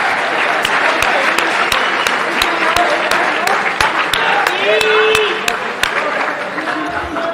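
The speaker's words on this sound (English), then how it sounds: "Give yourselves a round of applause for all the athletic achievements." An audience at an athletics awards night applauds for athletic achievements, with sustained dense clapping and sharp individual claps standing out, and voices mixed underneath.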